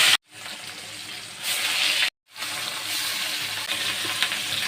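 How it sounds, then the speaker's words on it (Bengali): Katla fish fries in hot mustard oil with a loud, broad, hissing sizzle that cuts out sharply twice for a moment before surging back steady. "তেল গরম হয়েছে এখন আমি মাছ দিয়ে একটু একটু করে ভেজে নেব"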